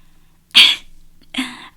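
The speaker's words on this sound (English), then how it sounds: "I had to cough, excuse me." Two close, loud coughs, a sharp first burst and a shorter second one, heard alone in an otherwise quiet space.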